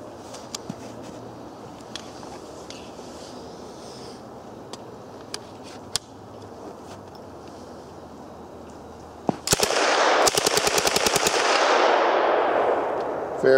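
A VZ-26 submachine gun converted to 9mm fires off the rest of its magazine in a rapid, loud burst of shots that starts after a long stretch of quiet outdoor background with a few faint clicks.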